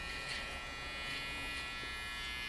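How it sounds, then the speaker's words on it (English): An electric hair trimmer run over a comb buzzes steadily and close up for a low mid taper haircut, with no talk. "I'm gonna use a little bit of trimmer over comb right here, just to get rid of all that weight"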